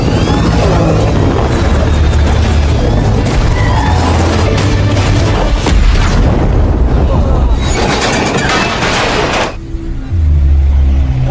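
A helicopter blows up in an action film scene, heavy booming blasts and crashing debris roaring loudly for several seconds before cutting off abruptly, with music and voices mixed in.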